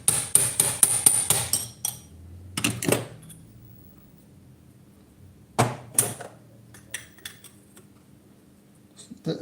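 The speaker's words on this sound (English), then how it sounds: "I will have to hammer it out a bit." A hammer strikes a metal air tube cone for an oil gun, starting with a fast burst of ringing blows, then separate pairs of sharp hits after pauses.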